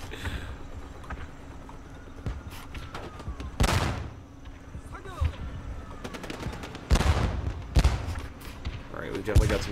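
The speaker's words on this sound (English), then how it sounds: "Definitely got some gunfire going on here." Gunfire in the Korean War strategy game Theatre of War 3: Korea, with several sharp shots and short bursts scattered across a busy, rumbling battlefield background.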